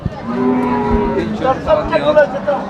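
A Friesian cow at a cattle market lets out a long, loud, close moo that wavers in pitch and holds for nearly three seconds, with faint market noise behind it.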